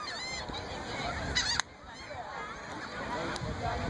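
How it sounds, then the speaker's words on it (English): Seagulls call repeatedly on a calm ocean beach at Rehoboth, a steady chorus of squawks close by over soft background wash, with one sharper call standing out. "All these seagulls are really noisy, but I don't care."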